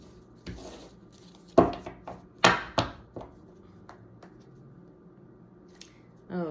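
Tarot cards are cut and shuffled close by, giving a few sharp papery slaps and snaps with softer riffles between them, separated by short quiet gaps.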